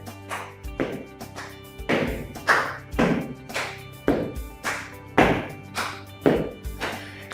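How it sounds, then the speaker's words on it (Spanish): Hands clap in a steady alternating rhythm under a raised leg during a home exercise routine, about eleven sharp, moderately loud claps over several seconds with soft thuds of movement and a faint music bed. "Elevamos la pierna y aplaudimos por abajo de manera alternada"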